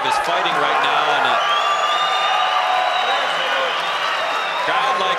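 A loud arena crowd at an MMA fight roars and whoops continuously, with whistles and shouting voices blending into a sustained wall of cheering.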